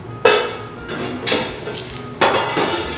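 About 30 grams of butter melting gently in a pan for a French chicken fricassee with Charroux mustard, a soft sizzle with three sharp scraping or stirring bursts, no talking.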